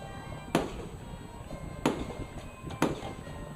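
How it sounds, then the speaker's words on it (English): Three sharp fireworks bangs burst out at uneven intervals, each a loud, close crack with a brief tail, over a low outdoor background with no talking. "That scared the dog out of me as we had some fireworks coming up."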